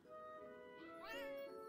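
A cat meows in the snow in the game Beyond Eyes, giving one short call and then a longer rising and falling meow, clear and fairly close against quiet surroundings.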